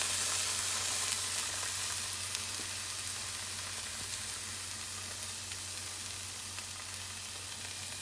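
Sausages fry steadily in coconut oil in a pan, a soft, even sizzle holding close and constant throughout with no talking.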